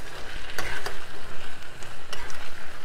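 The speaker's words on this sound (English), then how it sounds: "So now I'm going to put my saltfish in." Salt fish that was washed, boiled and mashed drops into a hot pan and sizzles steadily, with a couple of sharp clatters and stirring scrapes over the frying hiss.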